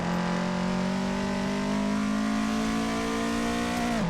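Toyota AE86 engine held at high, steady revs during a flat shift into third gear, loud and close, the pitch dipping sharply at the very end; no talk.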